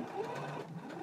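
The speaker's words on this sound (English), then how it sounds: "I'm just gonna stitch just a little bit to tack down the cuff" A sewing machine stitching briefly to tack down a pant cuff, giving a short, soft, fast mechanical whir heard alone at low level.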